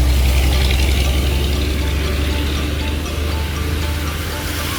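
A car engine idles and hums close by on a flooded street on the outskirts of Yangon, a steady low rumble that stays loud and even, easing slightly toward the end.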